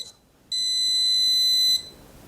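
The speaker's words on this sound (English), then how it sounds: "All right, you got a long beep." A single long, high electronic beep sounds steadily for over a second and then stops, loud and close, with no talking, from the keypad of a OneTigris biometric handgun safe after a code is entered.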